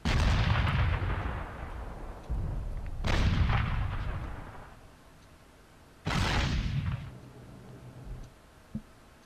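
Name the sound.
88 anti-aircraft gun firing in video game IL-2 Battle of Stalingrad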